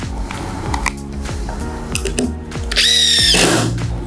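A Dewalt DCF850 impact driver drives a larger screw, its motor whirring then breaking into a rapid hammering rattle with a sharp high whine near the end, close and loud with no talk.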